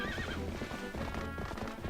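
A galloping horse in Twilight Princess, with rapid, continuous hoof clip-clops and a brief neigh early on, close and prominent over game background music; no voices.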